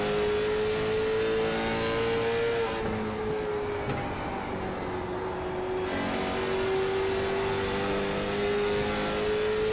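Race car engine in a sim racing game on a banked oval, a steady loud high drone held throughout with slight pitch shifts as the car holds speed through the turns.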